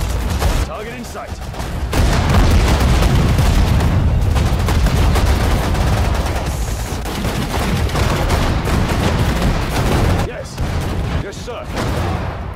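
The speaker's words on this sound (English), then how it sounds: "Machine gun moving." Sustained machine gun fire in the Sudden Strike 4 war strategy game, set in the North African desert, with dense overlapping bursts and booms running almost continuously at loud level, briefly dipping near the end, with battle chatter mixed in.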